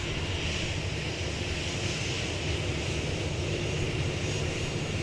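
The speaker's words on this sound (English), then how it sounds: "This came in from, just in from JFK Airport in New York, Korean Air Flight 82." A Korean Air airliner just arrived from New York's JFK Airport rumbles with a steady, broad jet-engine roar heard from a distance at an airport, unchanging throughout and without speech.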